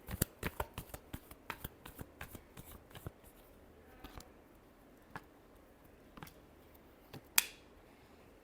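Tarot cards are shuffled by hand in quick, crisp riffles and taps, close and quiet, with short pauses between bursts and no talking.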